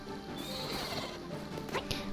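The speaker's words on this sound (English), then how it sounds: "And then I just call my horse." A horse neighs in the Black Desert Online video game when called by the player, a whinnying call over a dense, busy game soundscape.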